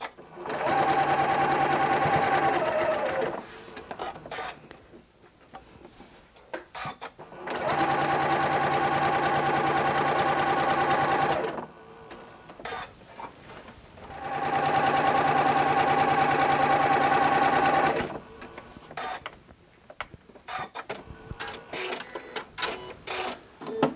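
A sewing machine stitches strips of a jelly roll quilt in three long, fast whirring bursts separated by pauses filled with fabric handling and soft clicks, close and steady.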